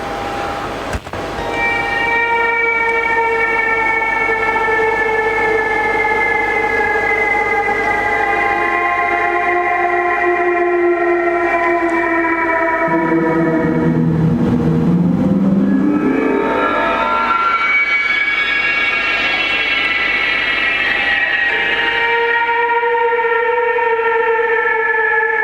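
A guitar played through a Meris Mercury 7 reverb pedal makes a sci-fi, haunting wash: long sustained shimmering tones that sweep down, then glide up in a siren-like swell, loud and continuous with no voices.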